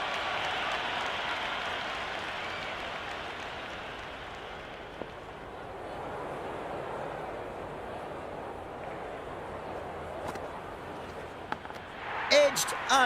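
A stadium crowd in the cricket video game Cricket 26 keeps up a steady, broad roar of applause and cheering throughout, with commentary voices over it and a few sharp noises near the end.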